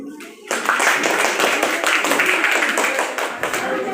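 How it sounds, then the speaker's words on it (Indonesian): After a brief murmur of voices, a seventh-grade class bursts into clapping, a lively, dense burst of many hands that continues steadily with a few voices mixed in. "Selanjutnya, tepuk tangan."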